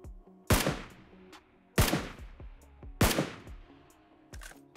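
Three sharp SCAR-L assault rifle shots in PUBG Mobile, evenly spaced about a second apart, each a loud crack with a decaying tail over quiet game ambience.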